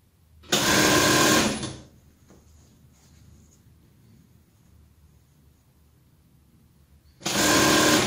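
A sewing machine stitching a fabric cuff with a one-centimetre seam allowance, two loud bursts of rapid, steady whirring chatter, each a second or so long, separated by several seconds of near quiet with faint handling noises.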